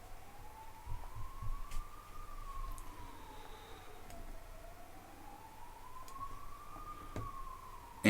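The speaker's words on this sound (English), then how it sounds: "ambulance is on the way for my next victim" An ambulance siren wails faintly from outside, a slow rising and falling tone continuing throughout behind low room noise, with no talking.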